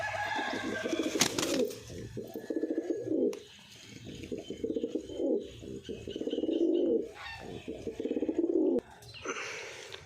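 Pigeons coo repeatedly in low, throaty rolling phrases, close by, with brief pauses and a few sharper chirps between bouts.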